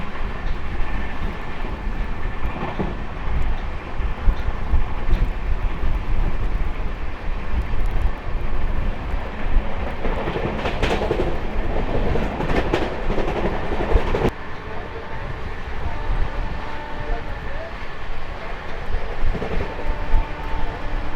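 Amrit Bharat Express train on the Sealdah–Benaras route, running continuously at 130 km/h: a loud, steady roar of wheels and rushing air with faint rail clatter, heard from on board with no voices.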